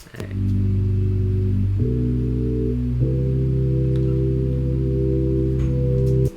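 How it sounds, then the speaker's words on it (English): Kawaii bass in an electronic music track: deep, sustained synth bass chords with bright harmonics, changing pitch twice in a steady progression, loud and alone until an abrupt stop. "And then I put some kawaii bass on it."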